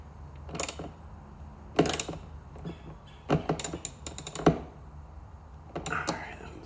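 A ratchet tightens a nut on the inner reverse taillight of a 2003-2008 Infiniti FX, giving several bursts of quick clicking, close and fairly loud, with pauses between strokes and faint background noise.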